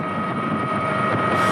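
A rescue helicopter flies over flooded land during a firefighter flood rescue in Italy, its rotor and engine giving a steady, loud, close whirring drone with wind buffeting, no talk.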